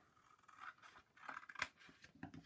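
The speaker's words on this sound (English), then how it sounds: "I'm just going to take my scissors, make a quick snip" Scissors make a few quick snips through paper while a traveler's notebook mini-album is assembled, soft close-up cutting sounds with a crisp snap near the end.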